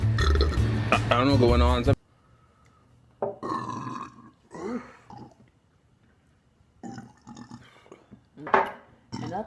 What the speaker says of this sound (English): You burping too much.